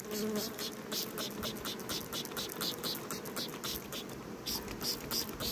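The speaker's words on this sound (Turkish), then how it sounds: "Sağımdan sonra arılar teyakkuz halinde." A dense, continuous buzzing of many agitated honeybees at the hive after honey harvest, clustered at the entrance, humming close by, steady and unbroken throughout, with a few faint ticks and taps in the background.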